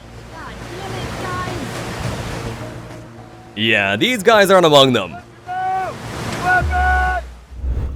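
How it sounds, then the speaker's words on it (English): Whitewater rapids of the Three Rocks Rapid on the Arkansas River, a continuous rushing wash of water under loud shouted voices and talk. "Only a few people in the entire world can boast of successfully rafting through the Three Rocks Rapid in the Arkansas River."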